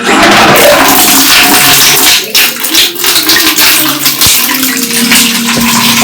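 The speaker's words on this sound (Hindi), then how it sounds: "तो मैं उसके लिए सबसे पहले पानी निकाल देती हूँ।" Water gushes loudly and steadily from a tap into a bath being filled for a child's morning wash, a close, continuous rushing stream that barely varies over the few seconds, with no voices.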